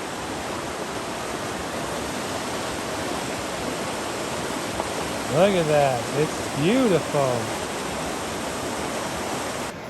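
River water cascading over rocks at GrandJean, Idaho, roars as a steady, loud broadband rush filling the whole span, with someone briefly speaking over it midway.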